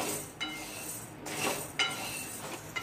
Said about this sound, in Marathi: आणि हे साबुदाणे आपण भाजून घेऊ थोडेसे